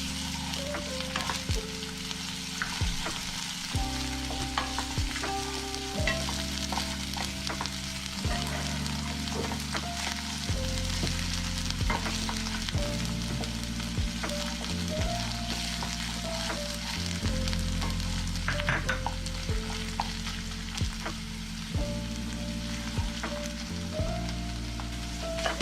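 Chopped onion, green chillies and ginger-garlic paste frying in a pan for veg pulao, a continuous loud sizzle with frequent stirring scrapes, while steady background music plays underneath.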